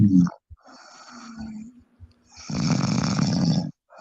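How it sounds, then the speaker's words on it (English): A woman snores in loud, rasping bursts with breathy pauses between them, close and alone. "I ain't about to listen to her snore all the time."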